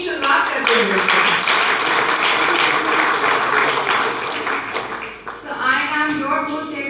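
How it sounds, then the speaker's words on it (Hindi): An event audience gives loud applause, dense clapping filling most of the clip, with a voice talking over it from around five seconds as the clapping fades. "आप सब की जोरदार तालियों के साथ हम आज के दिन की शुरुआत करते हैं"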